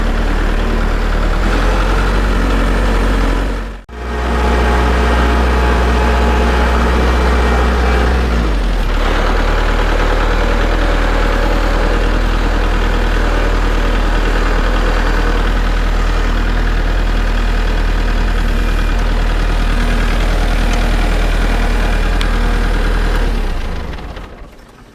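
Kubota L4701 tractor with a BH92 backhoe sits at idle, its diesel engine giving a loud, steady low rumble close by that dips briefly once before settling back to a constant drone.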